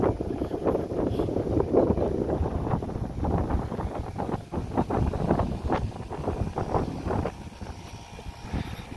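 Southerly wind blowing across a marina, a steady broadband rush with gusty swells and buffeting throughout, with no voices.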